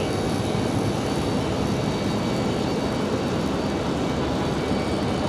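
Republic Airways airliner at Raleigh Durham airport, a steady broadband engine roar held at constant loudness throughout, no voices.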